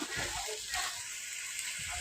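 Eggs sizzling in oil in a pan, scrambled into small crumbly bits for a curry in a home kitchen; a steady close frying hiss runs throughout with faint low stirring knocks.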